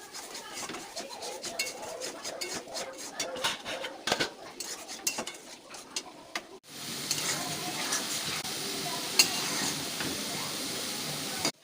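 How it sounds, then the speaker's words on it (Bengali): Spice paste, thinned with a splash of water, being stirred in a pan with oil for a potato and pointed gourd curry: repeated utensil scrapes and clinks, then a steady loud sizzle takes over partway through. "তারপর ভালো করে নাড়াতে থাকবো।"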